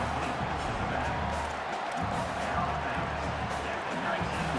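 Crowd noise from the EA Sports College Football video game fills the clip as a constant, dense roar of cheering, steady and moderately loud throughout, with no distinct voice standing out.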